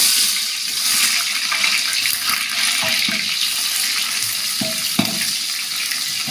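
Cut onions hit hot oil with whole spices like cinnamon, cloves, cardamom and bay leaf, giving a continuous hissing sizzle with a few clinks of a utensil against the pan.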